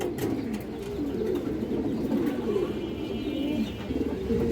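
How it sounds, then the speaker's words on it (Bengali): Kajla and red pigeons coo, giving a soft, continuous murmur of low burbling calls close at hand with no talking. "এই যে কাজলা গিয়ারের কবুতর এবং লাল গিয়ারের কবুতর"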